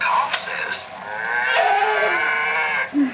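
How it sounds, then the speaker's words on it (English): A cow moos in one long, drawn-out low call lasting most of the three seconds, loud and fairly close, with a short higher sound near the start and little else around it. "A cow says moo."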